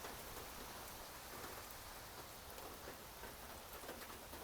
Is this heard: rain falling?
yes